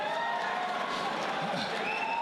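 A boxing crowd cheers and roars after a punch in a heavyweight bout, a steady, dense wall of arena noise with applause and shouting running throughout.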